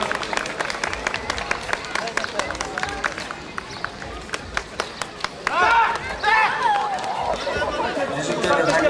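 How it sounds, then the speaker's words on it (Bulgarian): Crowd applause for a guest from Moldova, rapid dense clapping throughout, joined by chatter and voices rising above it toward the end. "Аплодисменти на госта от Молдова."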